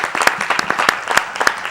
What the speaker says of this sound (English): Give me a hand clap.